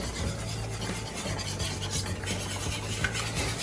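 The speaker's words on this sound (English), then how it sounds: "Whisking really fast." Milk sauce with whole milk is whisked fast in a pan, giving a dense, continuous scraping and rattling over a low bubbling sizzle, close and steady with no talking.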